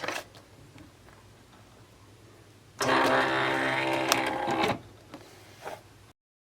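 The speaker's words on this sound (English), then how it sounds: "I'm ready to load and" Silhouette cutting machine slicing vinyl without a mat, a steady close mechanical whirring and buzzing for about two seconds after quieter faint ticking, then a few brief clicks as it stops.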